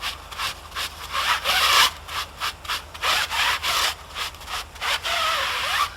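Cloth or applicator rubbing tyre clearcoat into the grooves of a tire, a steady scrubbing with quick repeated strokes, close and fairly loud with no talking.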